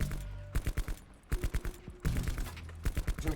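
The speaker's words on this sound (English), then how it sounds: "And that's all you're gonna do is keep shooting those targets." Rapid bursts of automatic gunfire from target shooting in Call of Duty, several tight clusters of shots separated by brief gaps, loud and alone with no voices.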